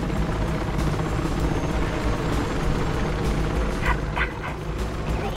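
A helicopter in the Mirror's Edge Catalyst game drones with a steady, dense rotor roar throughout, a few faint high chirps flickering briefly near the end.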